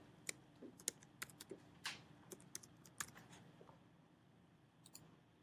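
Fast typing on a computer keyboard, a run of sharp, close key clicks in uneven bursts that tail off toward the end, with no voices.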